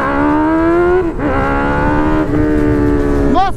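A Honda Hornet motorcycle roars at high revs, loud and close, with strained engine pitch that dips and climbs through gear changes in a street race against another Hornet.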